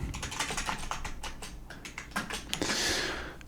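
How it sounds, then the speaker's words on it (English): Rapid typing on a computer keyboard, a dense run of close, crisp key clicks with brief pauses, ending in a louder flurry of keystrokes. "let me just type in some things here"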